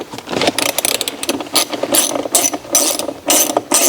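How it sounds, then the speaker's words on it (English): A ratchet undoes the mounting bolts on a tow mirror of a Chevy Silverado or GMC Sierra pickup, clicking in rapid bursts of rhythmic strokes with short pauses between them, close and fairly loud. "So I'm going to undo these real quick."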